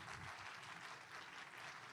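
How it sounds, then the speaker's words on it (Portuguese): An audience applauds at a business meeting, steady clapping from many hands heard faintly and at a distance, a continuous soft patter with no voices over it. "Salva de palmas para a Mariana, gente."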